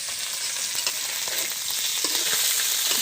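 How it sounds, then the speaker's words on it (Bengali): Small pieces of fresh pond fish fry in hot oil for a village-style curry, giving a steady, close, dense sizzle with faint crackles and occasional stirring clinks throughout. "আমি কিন্তু মাছগুলো অল্প অল্প ভেজে নেবো প্রথমে।"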